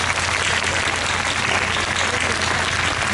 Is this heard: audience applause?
yes